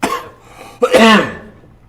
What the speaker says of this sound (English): Excuse me, because I'm going to cough.